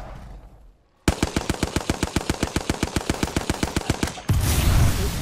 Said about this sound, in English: I was seeing how fast I was single firing the Hemlock